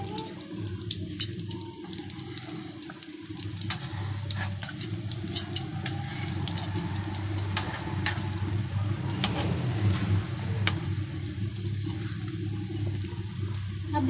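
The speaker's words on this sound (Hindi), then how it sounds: "अब इसको ऑयल में फ्राई कर दें।" Chicken bread rolls fry in hot oil, a steady close sizzle and bubbling with scattered crackles and pops throughout.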